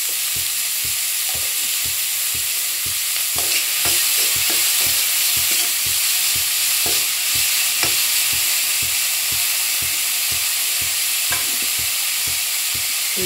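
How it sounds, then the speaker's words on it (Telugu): Salted onions fry to golden in a pan, a steady close sizzle broken by regular scraping strokes of a spatula, about two a second, with no voices. "ఆనియన్ ఫ్రై అయినాయండి."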